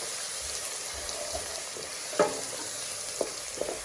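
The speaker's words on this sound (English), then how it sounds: "The ginger and garlic's been fried." Ginger and garlic frying in a pan for a Punjabi lamb and potato curry, giving a steady close sizzle broken by a few small pops and crackles, with no talking.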